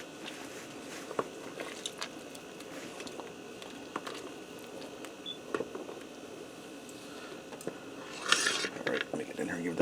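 A spoon scrapes and clinks against a pressure cooker pot of turkey orzo soup, scattered soft metallic taps and stirring, close but quiet, with a brief clatter near the end.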